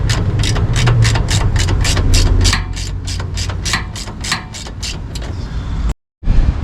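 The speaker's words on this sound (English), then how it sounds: "Now, the first things first is get these caliper bracket bolts off." A wrench working the 12 mm caliper bracket bolts on the rear brakes of a 2001 Cadillac Escalade: a loud, close, steady run of rapid ratcheting clicks that slows partway through, then a brief dropout.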